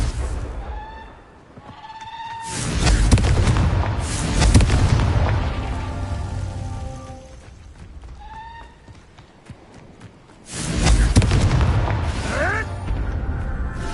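Confringo spell explosions in the Hogwarts Legacy video game on PS5, two heavy booming blasts several seconds apart with rumbling tails, over game sounds and brief sung or voiced tones.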